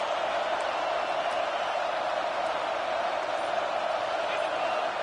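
A dense, steady roar of a stadium crowd fills an NCAA 26 college football video game, a constant wash of cheering noise with no breaks, loud and even throughout.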